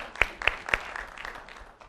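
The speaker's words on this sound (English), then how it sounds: "You can now commence clapping." Applause breaks out from an audience at a Tech·Ed North America 2011 conference talk, a few sharp claps at first and then a thinner spread of clapping that fades within about two seconds.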